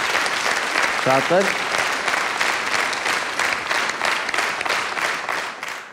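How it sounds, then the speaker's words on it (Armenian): A studio audience on a television show breaks into sustained applause with dense, even clapping throughout, while a presenter's brief voice sits over the opening moment. "Շատ լավ, եկեք ծափարենք այս ինֆորմացիան։"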